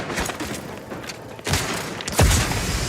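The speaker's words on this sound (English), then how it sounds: "How about another grenade?" Grenades explode in the sci-fi shooter The Outer Worlds 2 against an armored enemy: two heavy, booming blasts a moment apart, the second deeper and louder, over ongoing game noise.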